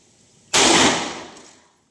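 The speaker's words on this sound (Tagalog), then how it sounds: "Isang headshot na. Headshot, Alpha." A single sharp gunshot from a first-person shooter video game bursts in loudly and decays over about a second, with no talk over it.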